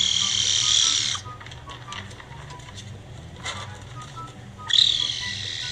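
A caracal gives harsh, buzzing high-pitched calls, one long burst at the start and another near the end, with quieter chirps and clicks between.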